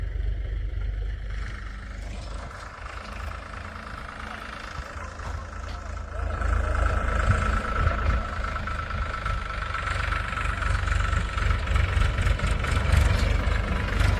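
A farm tractor engine runs steadily nearby at the farm plot while a truck is loaded, its low rumble continuous and growing slightly louder partway through, with voices talking over it.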